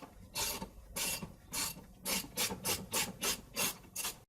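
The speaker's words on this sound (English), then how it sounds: "Now I can rotate the forcing screw and pull the hub off." A puller's forcing screw is turned in repeated short rasping strokes to pull a hub off a manual transaxle. The metallic grinding comes in about a dozen evenly spaced bursts, close and fairly faint, with no talk.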